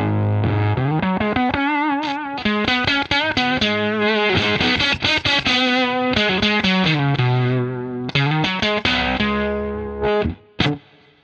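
An octave-up guitar pedal (Octo Puss) played with a fuzzy, distorted tone, loud and continuous as a run of plucked notes rings out alone, ending in a few sharp final notes.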